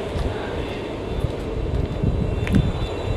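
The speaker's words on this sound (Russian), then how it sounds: "Оборудование работает на газовых горелках." Gas burners firing inside a BURNER 3000 incinerator, one of five on the unit, give a steady, broad roaring rumble that swells slightly toward the end with no pauses.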